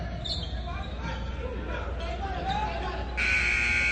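A high school basketball game's end-of-third-quarter buzzer sounds as a sudden loud sustained tone near the end, cutting in over crowd noise and a commentator's voice.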